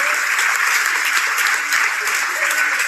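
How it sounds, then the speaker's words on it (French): Steady, loud audience applause for Gérard, with dense even clapping filling the whole stretch without pause. "Un tonnerre d'applaudissements pour Gérard"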